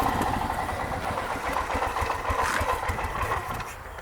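A military Harley Davidson dirt bike engine idles unevenly, a steady close putter with slight surging, fairly quiet and alone without talk.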